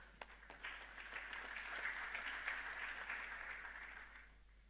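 Audience applause at the SAP Innovation Summit 2018 conference, a steady wash of clapping that swells and then fades out, heard faint and distant in a large hall.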